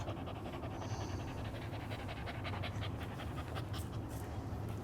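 A highly aggressive terrier pants rapidly and steadily at close range, quick rhythmic breaths continuing throughout with no voices over them.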